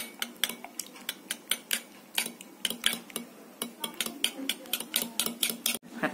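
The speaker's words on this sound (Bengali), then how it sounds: "এখন আমি এটা কাঁটা চামচ দিয়ে নেড়ে নিব।" A fork whisks an egg and spice mixture in a bowl for fried chicken, producing quick, rhythmic metallic clinks, roughly four per second, close and crisp with brief pauses.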